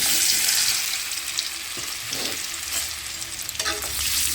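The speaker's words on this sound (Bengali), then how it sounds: "তো চলো আলুটা খুব করে একটু ভেজে নেব" Potatoes frying in white vegetable oil with asafoetida for a vegetarian aloo dum, a steady close hiss of sizzling punctuated by a few scraping stirs and clinks in the pan, no voices.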